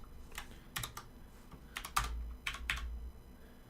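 Computer keyboard typing in irregular bursts of several keystrokes each, close and moderately loud, with short pauses between clusters and no speech.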